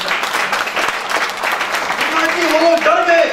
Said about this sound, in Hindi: ताली बजा के परमेश्वर को धन्यवाद देंगे।